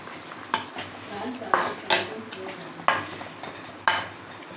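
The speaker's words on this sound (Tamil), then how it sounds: "இப்போ கொத்தமல்லி போட்டுக்கலாம் போட்டு அதையும் நல்லா மிக்ஸ் பண்ணிக்கோங்க" Coriander stirred into a thick tomato chutney in a hot pan, a soft simmering sizzle broken by about five clear scraping strokes of a spoon in a steady rhythm, close and without speech.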